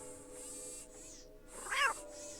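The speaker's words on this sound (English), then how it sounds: "Who's my favorite robotic cat?" A robotic toy cat gives a short electronic meow, rising and bright, close by and fairly quiet, with faint whirring before it.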